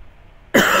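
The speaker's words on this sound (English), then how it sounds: "Now all of a sudden, it's like cough galore" A single sharp cough bursts out abruptly after a moment of near silence, loud and close, followed by a brief throaty tail.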